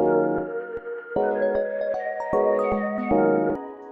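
Synth beat melody in a trap production, drenched in reverb with a Gross Beat effect chopping and slowing the notes at the same tempo; bright sustained tones stutter in rhythmic gated bursts, loud and alone.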